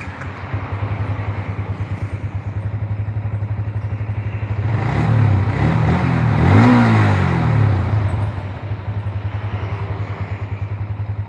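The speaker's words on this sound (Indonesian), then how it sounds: "Nah, sekarang suara mesinnya kayak gini." A Honda Vario scooter engine idles after an overhaul, a steady close-up putter that swells briefly as it is revved around the middle, then settles back to an even idle, with no talking.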